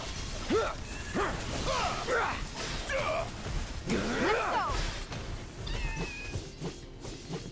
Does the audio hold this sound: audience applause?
no